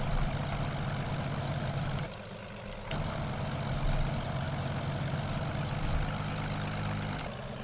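A steady, droning radial engine of a Curtiss P-40B Tomahawk in Microsoft Flight Simulator hums throughout, briefly dropping in level before rising again as the revs increase; no voices.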